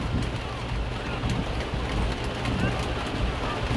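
Steady pouring rain at an outdoor football practice, a dense continuous hiss close by with no clear breaks.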